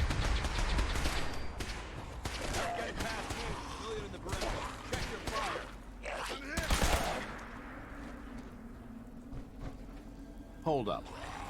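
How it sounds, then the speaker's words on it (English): Fallout 4 combat fills the scene with rapid bursts of gunfire, rattling volleys and booming explosions, loud and dense at first and then thinning out, while voices talk over the fighting. "listen to the explosions and the shooting"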